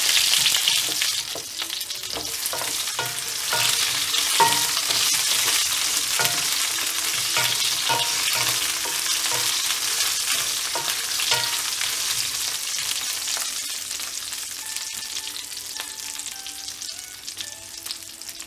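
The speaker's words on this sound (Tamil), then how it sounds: "ஆட் பண்ணிவிட்டு இந்த எண்ணெயில் இந்த பூண்டும் கத்திரிக்காயும் நல்லா வதங்கணும்." Garlic and brinjal fry in oil, a loud, dense sizzle with scraping stirs at a steady pace, near and continuous with no talking.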